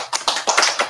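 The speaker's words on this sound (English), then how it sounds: "clap your hands" Hands clapping at a children's storytime, a quick run of about six sharp claps in uneven rhythm, close and fairly loud, with no talking.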